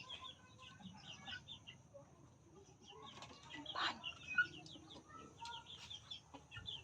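Soft clucks and low calls from a captured wild junglefowl rooster at moderate distance, with a brief flutter of wings midway over faint outdoor background noise.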